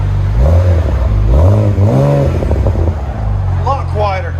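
A BMW Z4 with a 3.0L inline-six fitted with Vibrant ultra quiet resonators, revved in a few rising and falling bursts, close by with a deep droning tone, and a voice talking over it.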